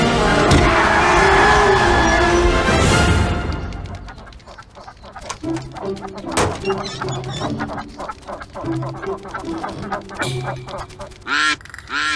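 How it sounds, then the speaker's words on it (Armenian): Cartoon ducks quack and honk on a road, loud, repeated calls over music and effects, with a brief voice among them. "Բադերը, ճանապարհին բադեր են։"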